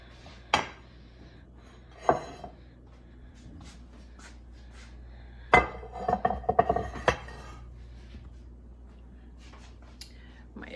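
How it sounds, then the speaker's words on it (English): A baking dish being handled in a kitchen while making chicken pot pie with biscuits, giving several close, sharp clinks and taps of glass and metal with soft shuffling between them, over a quiet background. "Let me grab my baking dish."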